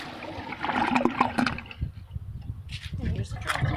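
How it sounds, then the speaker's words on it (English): Water rushes and gurgles through the siphon of a homemade outdoor toilet, a close flushing burst that fades to trickles and gurgles, fairly faint. "I'll let you hear the siphon first. So here's the siphon."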